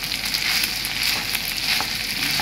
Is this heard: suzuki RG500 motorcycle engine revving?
no